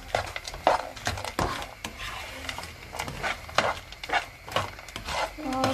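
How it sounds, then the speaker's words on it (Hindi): Vegetables seasoned with mixed herbs fry in a pan for egg fried rice, with a soft steady sizzle broken by frequent close, irregular scrapes and clinks of a utensil stirring against the pan. "तो वेजी को थोड़ा सा फ्राई करेंगे"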